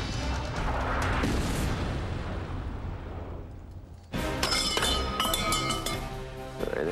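An M777 howitzer fires during a fire mission, giving a heavy, rumbling blast that slowly fades over several seconds, followed by a sharp, clattering metallic burst of mechanical noise from the gun.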